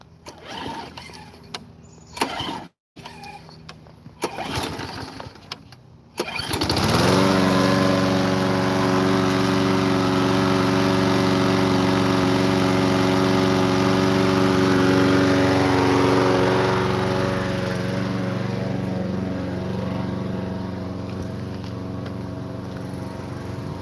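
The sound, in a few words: lawn mower engine started and running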